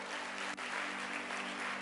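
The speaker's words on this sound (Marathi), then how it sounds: "जरा जोरदार टाळ्या प्रभूच्या गौरवासाठी." A church congregation claps together in praise, a brief burst of steady, even applause heard faintly from a distance.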